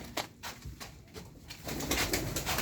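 Soft, low pigeon coos repeat a few times up close, with light rustling and handling noise around them.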